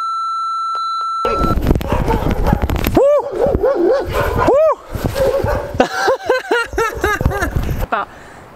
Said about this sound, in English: Past barking dogs.